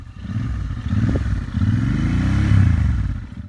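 A Royal Enfield Interceptor 650 motorcycle engine idles with a deep throb, then revs up in a few short throttle blips, rumbling loudly close by with no one speaking.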